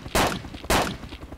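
Two sharp gunshots from the survival game DayZ ring out about half a second apart, loud and close, each with a short echoing tail and no voices over them.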